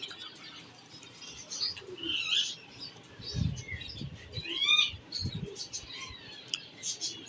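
Soft, low coos from breeder pigeons close by, mixed with sharper chirps and tweets from other birds against a quiet background.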